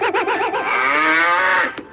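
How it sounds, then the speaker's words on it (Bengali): A cow at a cattle market gives one loud, close moo that wavers at first, then stretches into a long, steady bellow lasting nearly two seconds before it cuts off. "গরুটা তো সুন্দর।"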